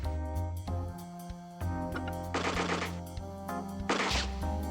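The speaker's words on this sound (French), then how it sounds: "On va le finir à la Gatling" Gatling gun fire in the video game One-Inch Tactics, rapid mechanical bursts over a droning in-game music bed, with two longer noisy volleys standing out clearly.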